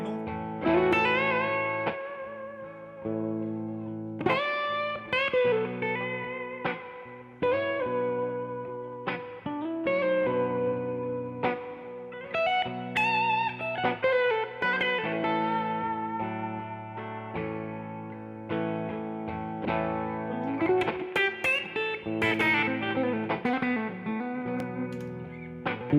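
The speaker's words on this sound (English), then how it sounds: "Add a little more reverb to the main signal." Electric guitar run through a reverb pedal plays sustained, chiming notes and chords with a lush reverberant tail, steady and loud throughout with no voices.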